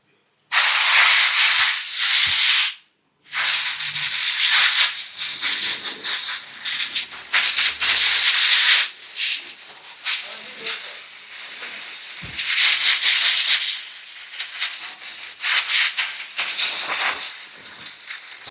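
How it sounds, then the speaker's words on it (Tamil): Compressed air blasts through a dusty air filter from a Royal Enfield GT 650 motorcycle, loud close hissing bursts that cut in and out in several short runs, with no talk. "இப்போ நான் இதில் ஏர் வச்சு காட்டுறேன், எப்படி இருக்குன்னு பாருங்களேன்."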